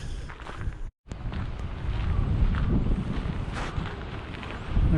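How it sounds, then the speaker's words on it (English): Loud, gusty wind buffets the microphone in a constant low roar on a cold, blustery day on a trail near Point Lobos, briefly cutting out near the start, with a rustle of movement underneath. "so that explains the cold, blustery, windy day today."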